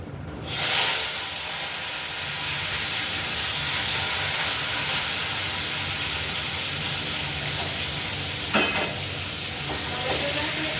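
Sliced tomato hits hot oil tempered with nigella seeds, a dense, bright, steady sizzle that holds evenly throughout, close by, with one brief clatter partway through and no talking.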